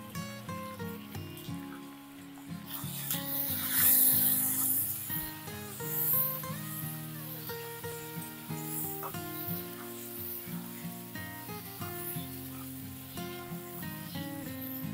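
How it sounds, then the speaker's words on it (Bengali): Potatoes fry in hot oil with salt and turmeric, giving a steady soft sizzle under prominent background music. "তেল গরম হয়ে গেছে, এবারে আলুগুলো ভেজে নেব। সামান্য নুন হলুদ দিয়ে ভেজে নেব।"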